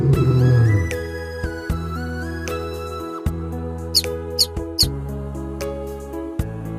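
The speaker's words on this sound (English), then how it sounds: "Mouse." Cartoon mouse squeaks in a children's animal lesson: three quick, high, bright chirps in a row over a steady musical backing, fairly close and clear.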